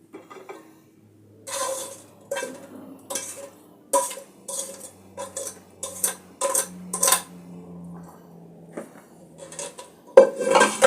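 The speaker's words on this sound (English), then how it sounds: "I'll transfer my spaghetti to a container." Cooked spaghetti being moved into a container, with a run of close metallic clinks and scrapes of utensils against cookware in quick bursts, then a sharper clatter at the end, and no voices.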